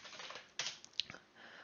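A computer keyboard is typed in a short quiet burst of a few clicks, a pip show command for checking an installed package, with no talking.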